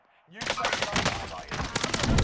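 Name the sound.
gunfire in a video game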